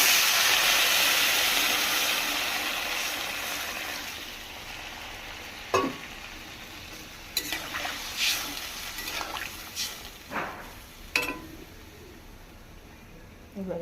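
Water poured into a hot pan of fried spice paste for curry bursts into a loud steaming hiss that gradually fades, followed by scattered clinks and scrapes of a utensil against the pan.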